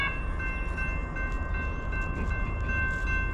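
A westbound CSX or Norfolk Southern freight train rolls past a New Jersey trackside on a 27-degree morning, giving a steady, moderately loud rumble with a faint sustained tonal hum over it.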